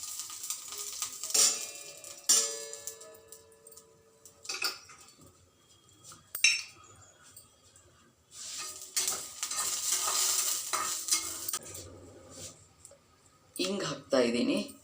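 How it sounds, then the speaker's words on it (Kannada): Mustard, coriander and fenugreek seeds crackle in a little hot oil, giving intermittent bursts of popping and sizzle mixed with clinks of utensils on the pan, while a person talks between them. "ನೋಡಿ, ಚಟಪಟ ಗುಡ್ತಾ ಇದೆ."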